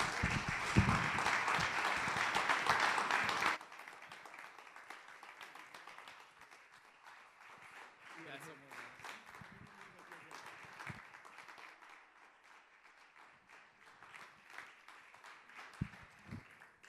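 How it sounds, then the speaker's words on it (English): Audience at an annual membership meeting applauds a gentleman: loud, dense clapping for the first few seconds, then a quieter, thinner patter with scattered claps continuing to the end. "give this gentleman a round of applause"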